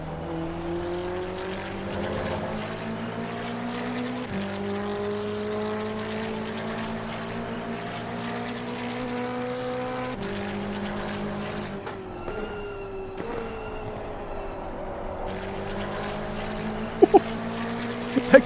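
Race cars in the racing game Assetto Corsa Competizione, multiclass endurance event at a damp Oulton Park, with engines droning continuously and pitch rising and dropping through gear shifts, a brief clatter near the end.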